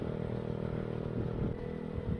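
A motorcycle exhaust drone rumbles continuously, with slight swells in pitch as if the throttle shifts, heard from nearby while riding, without any talking.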